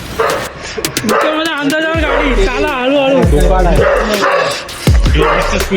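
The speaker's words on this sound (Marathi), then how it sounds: "आवाज येतोय कुत्र्याचा" A dog barks and yelps in bursts close by during a night bike ride, mixed with people chatting and laughing.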